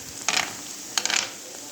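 Kofta being turned over in a hot frying pan, two short scraping, sizzling bursts of stirring against a faint background hiss.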